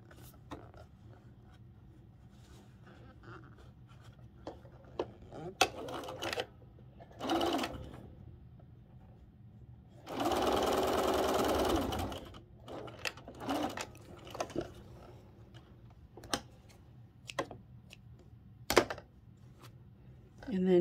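A sewing machine stitches the final seam of a Wedding Ring quilt block, running in short whirring bursts with one longer sustained run in the middle, close by, with fabric handling and clicks between stitches.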